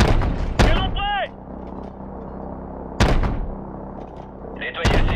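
Cannon shots in the Call of Duty Modern Warfare Remastered video game, three loud sharp booms spaced a couple of seconds apart, each trailing into rumble, with game radio chatter between them.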